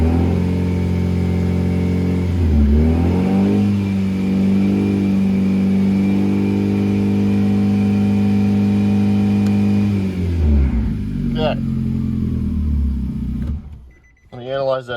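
A Nissan Juke engine on a stock ECU running flex fuel is revved and held steadily around 3,000 rpm, a loud sustained drone that falls back toward idle near the end, with no speech over it.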